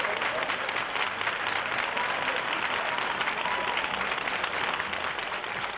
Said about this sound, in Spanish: Hoy nuestro aplauso y nuestro abrazo va para todos los Marcelos